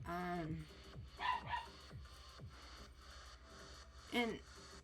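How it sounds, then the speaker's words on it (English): Chihuahuas bark and yip repeatedly in quick bursts, with a whimpering whine, fairly quiet and slightly distant, while people talk in the background. "excuse the dogs."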